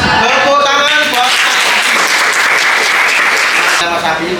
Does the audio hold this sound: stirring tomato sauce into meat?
no